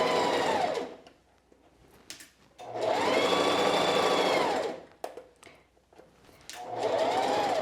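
A sewing machine stitches a dart in fabric, running in two loud sustained bursts with a brief pause of quieter handling between them and a third burst starting at the end.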